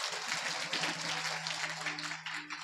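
An audience at a kirtan event applauds a police administration, a dense, continuous wash of clapping from a crowd with a faint steady tone underneath.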